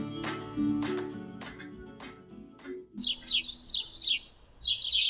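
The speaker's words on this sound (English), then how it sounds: "She sang high with the tweeting birds" Birds tweet in quick, high chirping bursts, fairly close and clear, following a few seconds of piano-like music before the chirps take over.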